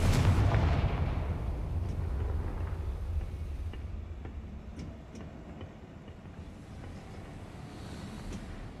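Confringo fire spell exploding in the Hogwarts Legacy game, a loud booming blast that rumbles and fades over several seconds, followed by faint scattered crackles and debris, no voices.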